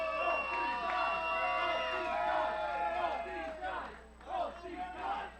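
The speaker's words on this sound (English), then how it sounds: "Hearing both these guys chants, hearing boos, hearing cheers." A hot crowd at an AEW Create A Pro wrestling match roars steadily, with chanting, cheering and boos blending into one dense wall of voices that swells and dips slightly toward the end.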